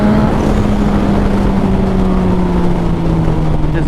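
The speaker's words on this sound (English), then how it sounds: "that acceleration is so effortless. Like just barely on the fucking throttle." Suzuki GSXR 1000 turbo motorcycle accelerating, a loud, close engine note rising smoothly and steadily with a constant droning roar throughout.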